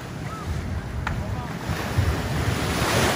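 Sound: wind blowing at the beach

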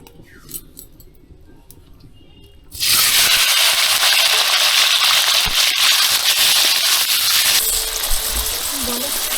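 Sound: paneer frying in hot oil

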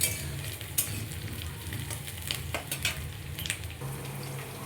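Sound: onions frying lightly in oil for ghugni

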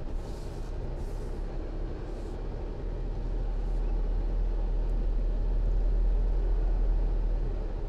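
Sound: Mercedes-Benz Sprinter van reversing into a tight parking spot

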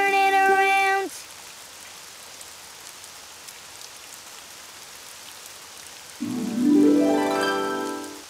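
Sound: rain falling outside in cartoon

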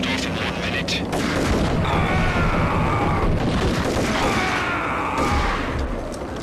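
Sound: grenade launcher fired in the Max Payne video game

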